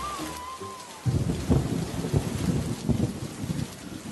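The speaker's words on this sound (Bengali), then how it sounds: "কি ঝুম বৃষ্টি পড়ছে রে" Heavy cartoon rainstorm pours steadily with a broad hiss, thunder rumbling and cracking in repeated bursts through the latter part, loud and close, with no voices over it.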